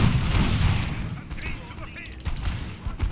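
Musket volleys crackle in the Napoleon Total War video game during the Battle of Ulm, dense overlapping gunfire and booms at moderate distance, with a voice talking over it.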